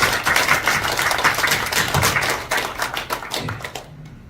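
Audience clapping at a foundation preparatory committee launch ceremony: a full round of many hands applauding together, close and lively, then thinning and fading out near the end.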